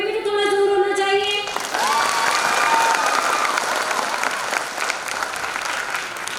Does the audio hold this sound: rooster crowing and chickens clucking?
no